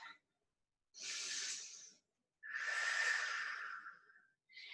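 A person takes slow, deep breaths during a tabletop fitness exercise, with a long inhale followed by a longer exhale. The breathing is close and quiet with silence in between.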